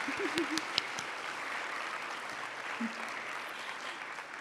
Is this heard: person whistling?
no